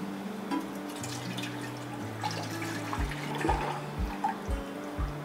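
A gallon of milk pours into a pot for homemade yogurt, a continuous low gurgling glug with rhythmic pulses as the jug empties, quiet and steady with no talk.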